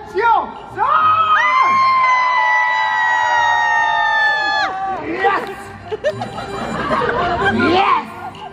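A live Taiwanese opera performance with an audience loudly screaming and cheering in a sustained burst, sliding shouts overlapping into a dense crowd roar that carries on for several seconds, with scattered voices and further shouts rising again toward the end.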